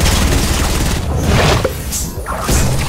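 Rapid gunfire and impacts in the video game Fortnite, dense loud bursts of shots and crashes close up, with brief dips between volleys.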